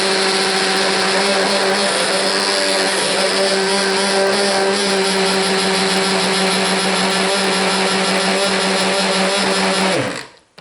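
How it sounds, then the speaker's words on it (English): A stick blender whirs continuously while mixing liquid soap made from lard, castor oil, coconut oil, lye and kombucha, a loud, steady motor hum that runs for about ten seconds before cutting off abruptly. "probably need to pull out my other stick blender"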